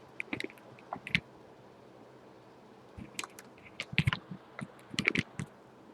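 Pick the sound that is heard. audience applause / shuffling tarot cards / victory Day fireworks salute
shuffling tarot cards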